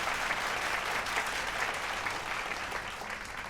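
Steady, dense applause from an audience at a fashion show pageant, continuous clapping throughout with no pauses, fairly close and even in loudness.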